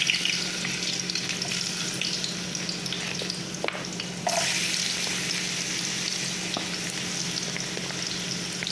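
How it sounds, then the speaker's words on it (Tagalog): Potatoes and carrots fry in hot cooking oil in a pan for beef kaldereta, a steady close sizzle with a few brief clatters and a sudden louder surge of crackling partway through. "ipiprito po natin ng kaunti itong ating patatas at itong carrots"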